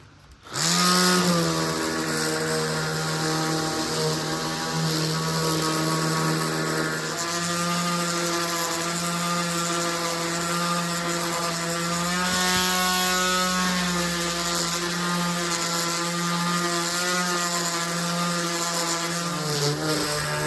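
A chainsaw smooths the bottom of a carved wooden bird cabin with a rustic finish, its engine holding a steady, loud, buzzing drone for about twenty seconds without a break.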